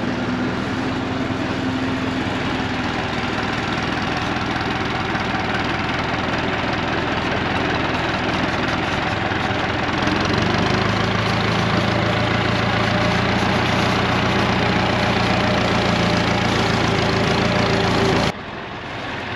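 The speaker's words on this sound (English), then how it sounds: "I'm gonna get the tractor started." A farm tractor's engine idles steadily at a garlic farm, a loud, constant rumble and chug that shifts pitch slightly partway through before cutting off near the end.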